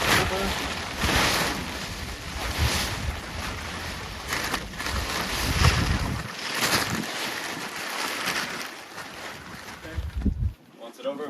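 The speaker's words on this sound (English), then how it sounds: "we do have a bit of wind today" Wind blows outdoors near tarps with grommets, a steady loud rush buffeting the microphone for most of the stretch, easing briefly before gusting again, with people talking through part of it.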